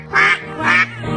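A duck quacks twice in a nursery rhyme about five little ducks, two loud, clear calls about half a second apart, standing alone with no talk over them.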